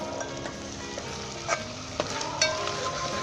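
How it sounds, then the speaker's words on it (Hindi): Chicken gravy ingredients sizzle steadily in a pan while a spoon stirs them, with a few soft scrapes and clinks standing out at close range; nobody speaks. "इसे अच्छे तरीके से 2 से 3 मिनट तक भून लें।"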